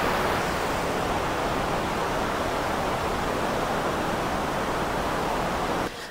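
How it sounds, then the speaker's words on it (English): Steady, dense rushing of water flowing inside an underground waterfall cave at Quashie River Sink, filling the space evenly throughout, loud and constant with no pauses. "All the noise you're hearing is the water which is flowing from the inside."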